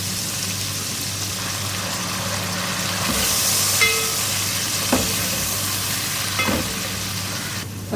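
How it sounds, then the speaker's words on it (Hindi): Garlic-ginger paste fries in hot oil for an aloo chana pulao. A steady close sizzle hisses throughout, with a few sharp stirring clinks near the middle. "One and half table spoon लहसुन अदरक का पेस्ट फ्राई करेंगे।"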